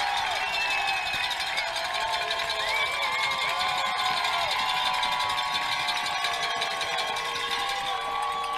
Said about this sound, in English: I'll let you listen to their crowd for a moment.